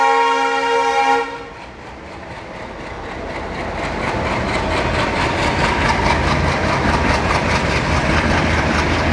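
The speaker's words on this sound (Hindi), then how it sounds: "जब तक हमारे ट्रेन का जो लोकोमोटिव है पीछे अटैच हो रहा है" Ranthambhore Express locomotive being coupled at a station: a brief horn-like tone at the start, then a steady loud rumble of idling engine and rail noise that builds slightly and holds to the end.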